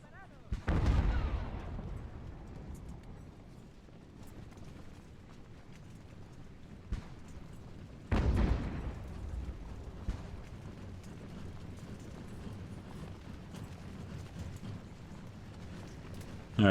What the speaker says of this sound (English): Man, the artillery's not even hitting.